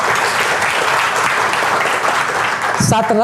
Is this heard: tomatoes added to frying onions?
no